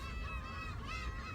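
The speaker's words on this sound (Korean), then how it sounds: "갈매기들 배고픈가 봐. 저 바위에서 엄청 울어대네." Seagulls crying from rocks by the West Sea coast, a dense overlapping chorus of harsh honking calls, steady and moderately distant.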